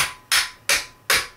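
Three sharp metallic hammer knocks, evenly spaced and close, drive out the tight stock pins of an SKS rifle, each strike ringing briefly before fading.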